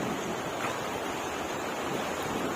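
Sea waves wash onto a beach at Bachok late at night, a steady broadband rush of surf with some wind noise over the microphone, continuous and fairly loud with no pauses.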